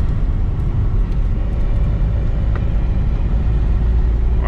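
Car engine running on a street drive after an ECU swap, a steady loud low rumble throughout with no clear rev rise, heard alone without talking.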